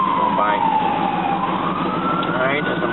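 An ambulance siren wails as the vehicle passes along a city street, its rising and falling tone loud and close over low traffic rumble.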